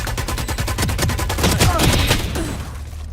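Rapid bursts of gunfire in Valorant, dense repeated shots firing steadily for about two seconds before tapering off, loud and close with no talking.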